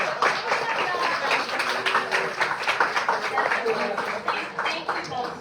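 Applause at a 5-year anniversary celebration for a school program: dense, steady clapping from a gathered crowd, moderately loud and continuous, with some voices mixed in.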